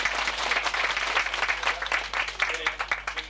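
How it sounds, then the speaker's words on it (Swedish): An audience at a 1986 magic show in Björboholm breaks into lively applause, a dense burst of clapping that rises and falls over about three seconds, with some voices mixed in. "Och så får du en jättefin applåd."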